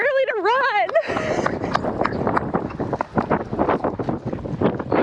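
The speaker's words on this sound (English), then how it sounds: "Oh my gosh, it's so windy out." Strong wind buffeting outdoors, roaring and gusting loudly across the microphone after a brief voice at the start, with people speaking over it.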